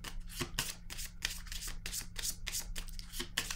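Tarot cards are shuffled in a rapid, even series of crisp riffling bursts, close and fairly quiet, with a steady low hum beneath and no voices.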